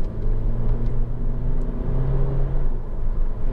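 An automatic Honda Civic 1.8 i-VTEC EX hatchback accelerates from inside the cabin, a loud steady engine hum and road rumble with a smooth rise in pitch and no break at the gear change.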